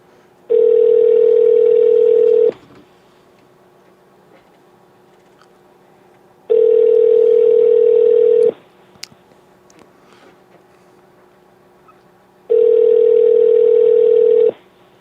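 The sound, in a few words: telephone ringing on an outgoing call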